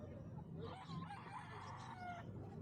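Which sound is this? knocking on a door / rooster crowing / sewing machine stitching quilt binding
rooster crowing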